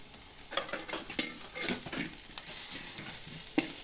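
Fish masala fries and is stirred in a pan for a fish curry, giving an irregular scraping, spluttering sizzle with a few sharper clinks, close and fairly quiet.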